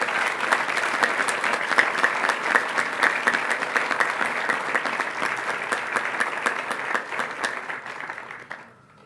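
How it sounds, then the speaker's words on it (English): A class day crowd at a grade 8 ceremony claps steadily for an advisory group, a thick continuous wash of many hands, even and fairly loud, fading out quickly at the very end. "Let's have another round of applause for Dr."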